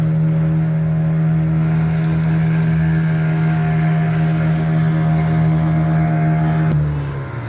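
Loud, steady engine hum of a motorboat on a dolphin-watching trip off Goa, holding one even pitch close by before it drops and tapers off near the end.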